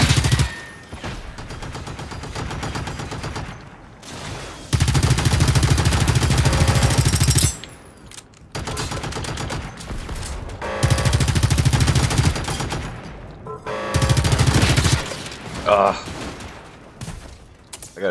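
Gunfire in the Generation Zero multiplayer shooter: several loud bursts of rapid automatic fire, each lasting a few seconds, separated by quieter gaps, with someone talking in between.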